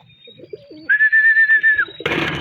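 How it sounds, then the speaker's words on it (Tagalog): A racing pigeon arrives at its loft during a team's mid-distance toss: soft nearby cooing, then a steady whistling tone for about a second, followed by a burst of broad rustling noise. "May kalansing yung ibon na yun."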